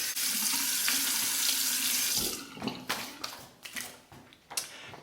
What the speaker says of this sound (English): Rinse the face with hot then cold water.